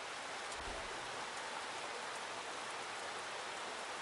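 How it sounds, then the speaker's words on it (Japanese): Torrential rain falling on a castle in the Granblue Fantasy game, a dense, even hiss of downpour that holds steady from start to finish, with no voices. "城の中で雨じゃと"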